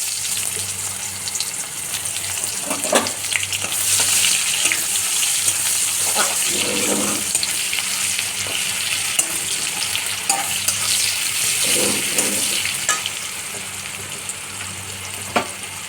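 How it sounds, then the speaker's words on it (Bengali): Steady oily sizzling of chopped onions frying in oil in a pan, with occasional stirring scrapes and clinks; no talking. "ওই তেলের উপরে দিয়ে দিচ্ছি আমি কুচানো পেঁয়াজ"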